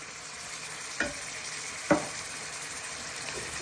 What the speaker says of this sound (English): Now you want to add in your tin of tomatoes.